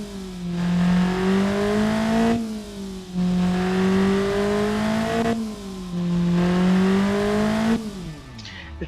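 A tuned stock engine being built into a tuner engine revs loud and close in three long sustained pulls, each rising and holding before dropping back, with a raspy racing-style note and no talk.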